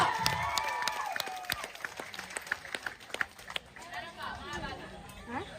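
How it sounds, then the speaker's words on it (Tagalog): A crowd at a political meeting in the Philippines claps and cheers: scattered sharp hand claps ring out amid shouting and excited voices, rising and falling, with chatter underneath. "Malakas sa palakpakan! Sigawan mo!"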